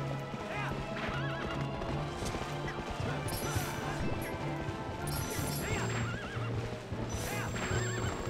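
Horses galloping and neighing during a mounted duel at Hyrule Castle in Twilight Princess HD, with rhythmic hoofbeats, repeated whinnies and occasional crashing impacts, all loud and continuous under game music.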